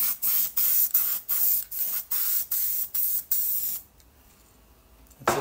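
Eight short bursts of spray hiss in a steady rhythm, each under a second, close and loud, then a quieter stretch and one last brief spurt.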